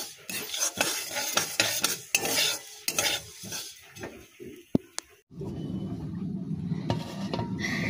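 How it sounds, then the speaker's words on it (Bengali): Sesame seeds stirred and dry-fried in a pan, a utensil scraping in quick repeated strokes with a soft crackle, then the scraping stops and a steady low sizzle carries on. "তিলটা ভাজা হয়ে গেছে"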